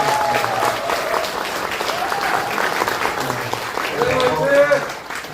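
A Korean audience applauds in encouragement, the clapping steady and dense throughout, with voices and tones audible beneath it.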